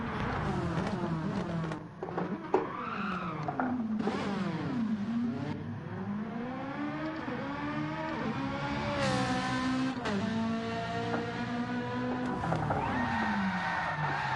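Race car engine in a racing video game at Bathurst, revving and sweeping up and down through the gears with tire squeal as the car is thrown into a handbrake spin, loud and continuous throughout.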